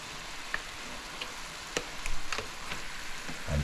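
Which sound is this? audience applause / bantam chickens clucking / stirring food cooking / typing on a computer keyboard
stirring food cooking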